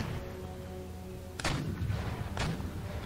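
Black-powder battle fire in Empire Total War, a Quebec engagement: two sharp, booming shots about a second apart rise over a low continuous hum and rumble, with a faint echoing tail after each.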